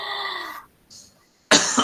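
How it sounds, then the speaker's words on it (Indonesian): A close, sharp cough bursts out after a short pause, preceded by a brief throaty sound, loud and abrupt against an otherwise quiet room. "Silakan batuk dulu Bapak."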